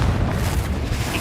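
Confringo spell explosion in Hogwarts Legacy, a dense rumbling blast that fills the whole short moment with steady loud noise, with no talk.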